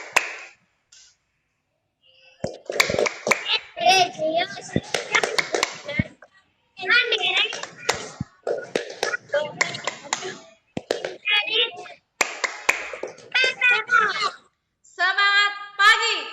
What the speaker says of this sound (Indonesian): mari kita melakukan tepuk PPK dan semangat pagi